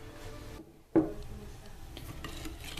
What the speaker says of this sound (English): We're going to take our whisk and go ahead and whisk all our wet ingredients together.